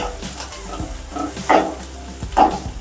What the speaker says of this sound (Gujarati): ડુંગળી થોડીક પાકી જાય પછી આપણે લસણ અને મરચાં આદુની પેસ્ટ નાખવાની. આ રીતે શેકાવા દેવાની.